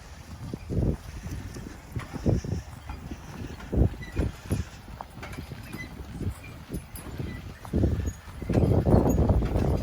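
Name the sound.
draft horses pulling logs, hoof steps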